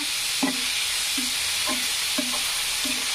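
White onion frying in a pan until golden gives a steady, even sizzle, with about five short stirring knocks at roughly half-second intervals.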